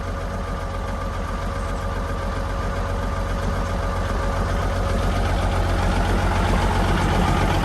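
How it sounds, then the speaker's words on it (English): A Peterbilt 359 truck engine idles after a cold start, smoking a little and with an exhaust leak at a band: a loud, steady diesel rumble with an even, throbbing beat that holds for the whole stretch. "Smokes a little bit when you first fire her up, but she clears up after she warms up and fires on all cylinders."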